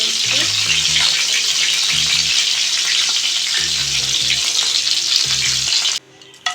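Chicken leg pieces sizzle loudly in hot oil as a dense, continuous frying hiss, with intermittent low clanks from the pan being stirred, before the sizzle drops away near the end.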